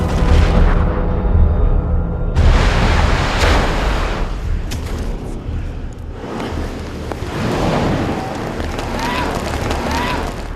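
A volcanic eruption hurling molten lava bombs, heard as loud deep booming blasts and rumbling with a roaring, surf-like wash, a sharp fresh burst partway through, then continued turbulent rumble and crackle.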